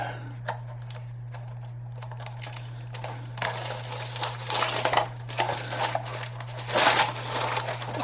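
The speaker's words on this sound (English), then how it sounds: "So let's go ahead and try to get this film off on camera." Protective plastic film peeled by hand off a PS16 metallic blue surface, giving irregular crinkling and tearing bursts that build toward the end, alone over a constant low electrical hum.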